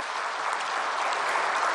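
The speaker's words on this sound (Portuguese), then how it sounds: "E eu pedi uma salva de palmas a ele pelo belíssimo trabalho que eles fazem." An audience at a government event applauds the labour ministry staff, a steady, full burst of clapping at an even level that runs through the whole moment.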